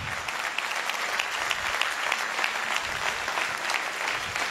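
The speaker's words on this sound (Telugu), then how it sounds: "అర్థమైతే చప్పట్లు కొట్టు" An audience at a boot camp in Warangal claps together in a dense, continuous burst of applause that lasts throughout, with no voices rising above it.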